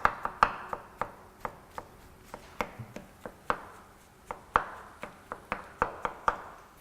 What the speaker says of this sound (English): chopping them into a fine dice.